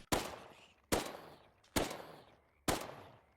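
Four sharp pistol shots from a Minecraft zombie-apocalypse game, evenly spaced under a second apart, each a loud close crack with a short decaying tail, no talking.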